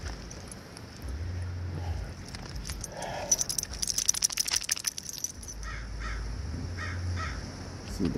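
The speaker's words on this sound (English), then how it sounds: "See the birds." Crows caw several times at middle distance outdoors, mixed with faint jingling and light rustling over a low ambient background; no talk is heard.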